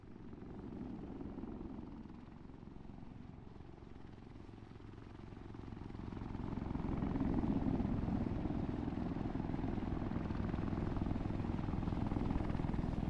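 A helicopter in ARMA 3 with a steady low rotor thrum and engine drone, faint at first and growing louder and closer about halfway through, no talk.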